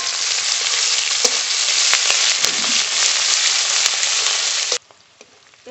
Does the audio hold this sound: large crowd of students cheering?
no